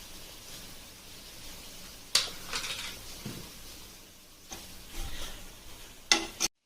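A spoon stirring crispy bitter gourd (karela) fry in a pan gives quiet, intermittent scraping strokes, a few of them sharper, against a soft background hiss.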